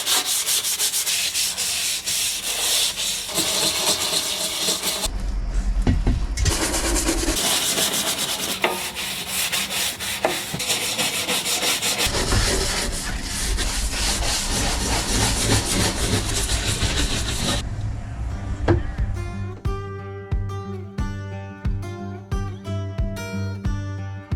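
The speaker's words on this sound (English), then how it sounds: "trying a stiffer bristle brush this time to see if I can really get it in the cracks and try and get these tough stains off" A stiff bristle brush scrubs hard at a sailboat's floor (sole), rubbing back and forth loudly and continuously up close, then shifting into quicker, rhythmic short strokes toward the end.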